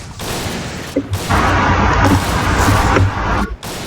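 Rapid video game gunfire crackles in dense, loud bursts, nearly continuous through the clip with a few brief gaps, harsh and close.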